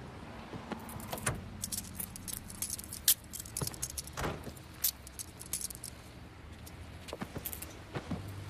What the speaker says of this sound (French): Je veux juste t'enlever tes menottes.